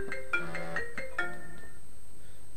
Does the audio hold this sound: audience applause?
no